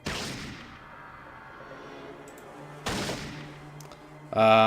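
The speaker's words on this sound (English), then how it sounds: "we can just shoot them" Gunshots fired at mole rats in the Fallout video game, two sharp separated blasts with decaying tails, then a brief tonal game sound at the end.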